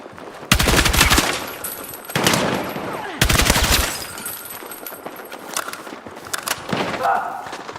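Video game gunfire with shots fired through a wall: loud bursts of rapid automatic fire in several separate volleys, close and harsh, with quieter scattered shots and game noise between them.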